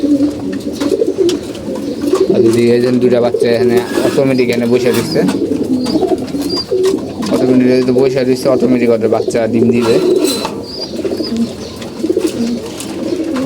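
Pet pigeons coo in low, repeated throaty calls close by, running under continuous talking throughout.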